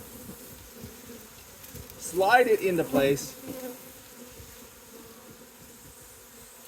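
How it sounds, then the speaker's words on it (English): Honey bees buzz softly throughout as they are moved into a beehive, with a short burst of speech partway through rising over the hum. "And now we have our bees in our beehive."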